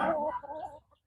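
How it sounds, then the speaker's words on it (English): Chickens cluck in a backyard flock, a short burst of fowl calls loudest at the start and tapering off within about a second. "allow you to watch chickens just being chickens"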